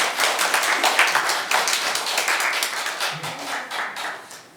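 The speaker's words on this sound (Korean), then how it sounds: "팔방미인한테 박수 한번 올려주십시오." Audience applause at a Buddhist book-launch Dharma ceremony: dense, steady clapping from many hands fills the whole stretch at moderate loudness, with a faint voice briefly audible underneath.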